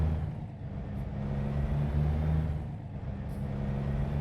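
A heavy truck in American Truck Simulator drones along with a steady low engine rumble, its pitch rising and falling slightly, with a brief air-brake-like hiss; no voices over it.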